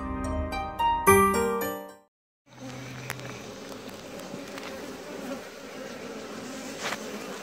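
Honey bee workers ball their queen, giving a dense, steady hum of many bees close by. A short melodic passage precedes it, and the buzzing continues alone after a brief gap.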